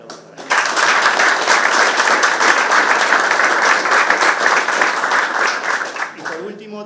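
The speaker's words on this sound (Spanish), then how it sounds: "vamos a darle fuerte un aplauso para él." Strong, sustained applause fills a ceremony sending off the Uruguayan delegation to the Santiago 2023 Parapan American Games, honoring a Pan American judo champion; dense steady clapping rises sharply after a brief pause and fades near the end.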